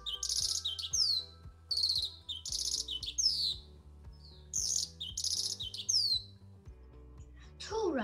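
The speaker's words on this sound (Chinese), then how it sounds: "小百灵又站在高高的树顶上唱歌" A lark sings from a treetop in bright, rapid chirping phrases that come in repeated bursts, fairly close, over a soft low tonal backing.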